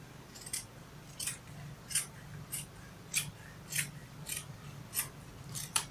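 Scissors snip through kaftan fabric in a steady series of about nine crisp, evenly spaced cuts, close and clear over a low background hum.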